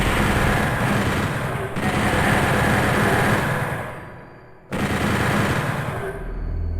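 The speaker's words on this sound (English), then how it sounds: "Do a lot of chain gun here. Good way to kill the imps." A chain gun in Doom 64 fires in long rapid bursts at imps, a dense rattling barrage that stops briefly and then resumes, with no talking.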